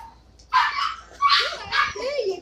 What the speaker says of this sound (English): Point the camera at that dog.